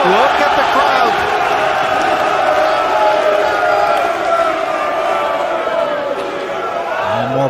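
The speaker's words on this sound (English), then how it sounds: "The crowd explode in excitement and noise." A crowd at a Mosconi Cup pool match erupts in loud, sustained cheering and whooping from start to finish, dense and close, with shouting voices mixed through the roar.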